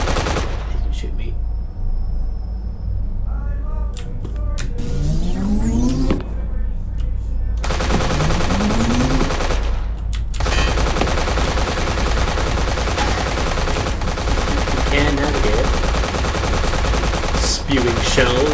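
Rapid machine gun bursts in a video game level, loud and dense, with sustained gunfire and scattered shell-ejection clatter running nearly the whole time, a few quieter gaps early on.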